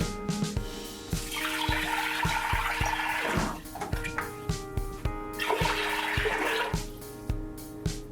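Water pours and splashes into a pot in two bursts, filling it about halfway, with a steady rhythmic thumping and tonal music playing throughout.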